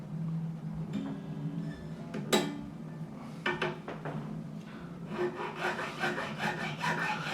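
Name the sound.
file cutting guitar nut slot for second string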